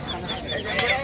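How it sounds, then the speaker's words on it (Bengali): Native chickens clucking at a weekly rural poultry market, several birds close by in a continuous busy chorus with market noise underneath, no clear talk. "এইদিকে আরো দেশি মুরগি দেখতে পাচ্ছি"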